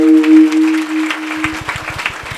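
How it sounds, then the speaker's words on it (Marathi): An audience at a village kirtan held for the Bail Pola bullock festival starts clapping after a sustained musical tone fades. The quick, fairly loud clapping lasts about a second until the end. "वाजवा टाळ्या."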